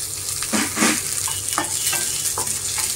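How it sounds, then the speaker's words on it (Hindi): Onion fries in a pan for curry leaf chutney, with a steady close sizzle punctuated by several rhythmic scraping stirs of a spoon, and no talking. "प्याज को भून लेंगे प्याज को मैंने भून लिया है"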